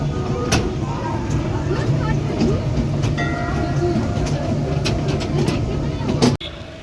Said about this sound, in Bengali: আমাদের টয় ট্রেন অলরেডি মানে ছেড়ে দিয়েছে, আমরা টয় ট্রেনে করেই যাচ্ছি